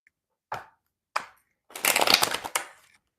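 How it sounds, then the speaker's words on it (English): Tarot cards shuffled by hand: two short separate riffles, then a longer dense flurry of snapping, fluttering cards lasting about a second, close and fairly loud with no talking. "So it's like, let me shuffle again."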